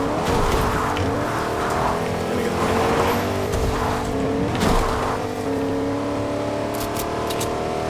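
A truck engine in a video game drones and revs steadily throughout, with faint tire and rumble noise, continuous and fairly loud.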